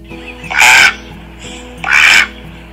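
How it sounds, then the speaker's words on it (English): A duck quacks twice, in two loud nasal honks spaced about a second apart, over a soft background music bed in a children's read-aloud story. ""Quack, quack," called the duck."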